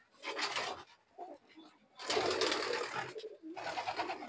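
Pigeons in a home pigeon loft give soft cooing and rustling in three bursts, close by, with brief flutter-like noise and no talk.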